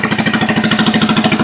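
A three-wheel bike engine idles roughly and shakes hard, putting out a loud, steady, rapid pulsing throb with a strong low hum and no talking.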